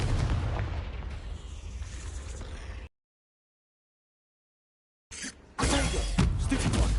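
Confringo blasting curse exploding in the Hogwarts Legacy video game, a loud broadband blast and rumble that cuts to dead silence, then returns as another burst of crackling impact noise.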